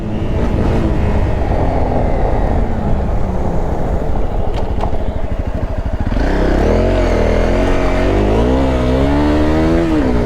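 A motorcycle on new tyres holds a steady idle-like rumble, then the throttle opens and the engine revs hard, climbing in pitch through several rising and falling sweeps, loud and close.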